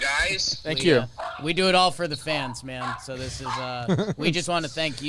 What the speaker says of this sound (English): Who's barking in the background there?